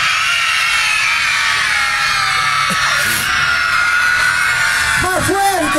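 A crowd of children at a Children's Day festival in Plaza Gurruchaga shouts and yells loudly and continuously, close and dense, with a few individual voices rising near the end.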